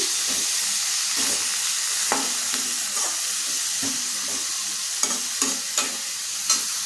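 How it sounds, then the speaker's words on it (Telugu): Thin-cut ridge gourd peel pieces fry in a pan with a steady close sizzle and hiss, broken by scattered stirring scrapes and clicks of a spatula against the pan. "సన్నగా పీసులు కట్ చేసుకొని వేయించేసుకుందాము"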